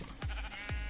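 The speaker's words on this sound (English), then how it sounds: "I've got this sheep right here" A sheep in the video game Minecraft bleats twice in quick succession, short nasal cries over a steady low background hum.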